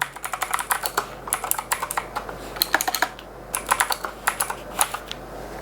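Quick, steady typing on a Gamepower Ogre RGB mechanical keyboard with leather wrist rest, a close run of crisp clacky keystrokes in an irregular rhythm over a faint hum, with no voices.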